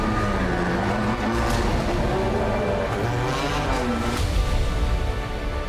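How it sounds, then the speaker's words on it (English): A DTM race car pulls out of the pits at the Lausitzring, its engine droning loud and close with shifting pitch and rising revs, plus a few sharp bursts, no voices over it. "My favorite sound when the car is leaving the pits."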